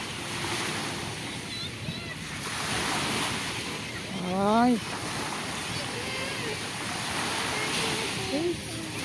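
Steady roar of surf washing on a shore with wind buffeting the microphone; a brief rising chirp-like sound cuts through midway.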